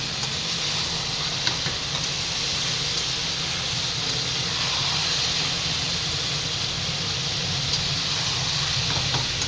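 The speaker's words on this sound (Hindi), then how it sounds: "ये देखो मेरी तुरई अच्छे से चटक रही है।" Ridge gourd sizzling and crackling steadily in a hot pan on a gas stove, a continuous loud frying hiss with scattered small pops throughout, no voices.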